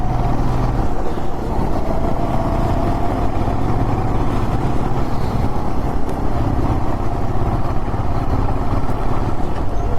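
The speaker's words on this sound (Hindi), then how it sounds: "फर्स्ट गियर पे बाइक चलाना पड़ रहा है" A motorcycle labors up a winding hill road with hairpin bends in first gear near Yercaud, its engine a loud, steady, close droning hum with rough low rumble and constant wind buffeting.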